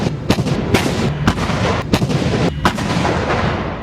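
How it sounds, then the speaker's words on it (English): An M109 self-propelled howitzer with a 155mm M284 cannon fires amid a dense, continuous roar of heavy booms and sharp cracks, several distinct blasts punching through a loud, rumbling barrage. "The M109 Howitzer helps the U.S. Army accomplish this mission through mobile long-range indirect fire"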